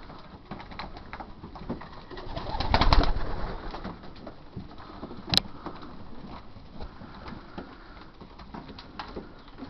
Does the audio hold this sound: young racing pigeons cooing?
yes